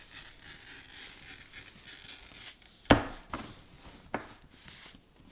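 Glass cutter scoring a sheet of rippled stained glass, a soft gritty scratching drag punctuated by two sharp clicks or taps, close and with no voices.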